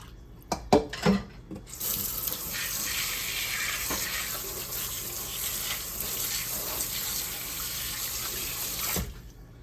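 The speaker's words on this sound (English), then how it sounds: "let me wash my hands here." Tap water runs steadily into a kitchen sink as hands are washed during meatloaf prep, a few splashy knocks at the start giving way to a continuous hiss that stops abruptly near the end.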